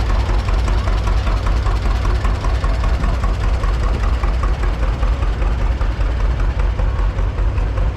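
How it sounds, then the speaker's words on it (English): A 1947 John Deere Model A tractor with a chrome exhaust stack runs in a parade, its engine giving a loud, close, steady low chugging throb throughout, with no talk over it. "we have Andrew on his 1947 John Deere Model A. That chrome stack adds at least 3 horsepower"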